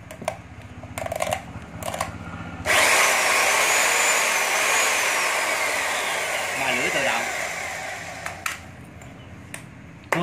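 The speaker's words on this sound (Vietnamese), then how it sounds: "Cưa xích." A chainsaw fitted with a built-in chain sharpener starts up and runs loud and steady at close range for most of the stretch, with brief mechanical clatter before it kicks in.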